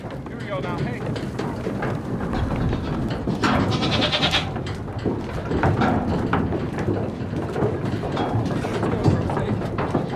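Goats bleat several times out in the open, close to the listener, mixed in with people talking, shouting and general outdoor bustle.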